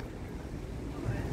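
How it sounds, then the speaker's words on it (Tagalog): Steady, broadband wind rush buffeting the microphone at a windy spot in Parc Décarie, a continuous low roar with no pauses. "malakas ang hangin lagi dito eh"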